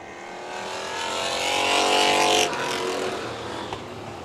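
Street stock race cars roar past at Orange Show Speedway during a 30-lap main event. Loud engines swell as a pack approaches, peak and pass by, then fade into more distant engine noise.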